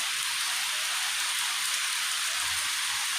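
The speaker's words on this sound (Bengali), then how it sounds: "প্রচণ্ড জোরে বৃষ্টি নেমেছে" Heavy rain pours down steadily at close range, a dense continuous hiss of drops striking surfaces with no voices.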